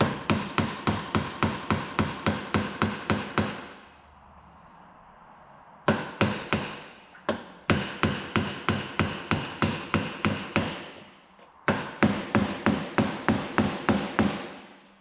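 A hammer taps a car's CV joint to seat the circlip while a CV boot is being replaced, firing rapid runs of sharp metallic blows in four bursts separated by short pauses, close and loud.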